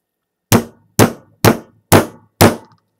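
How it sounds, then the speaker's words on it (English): A ball peen hammer strikes a round polycarbonate tank five times at an even pace, each blow a loud, sharp, hollow whack that dies away quickly, with silence between hits. "Ball peen hammer."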